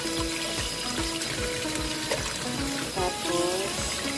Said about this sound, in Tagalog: Ugasan ko na lang ulit ng isa.